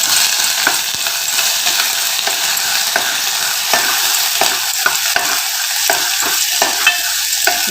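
Freshly ground ginger-garlic paste frying in oil in a pan with spices for mutton dalcha, a loud continuous crackling sizzle with regular stirring scrapes, heard up close.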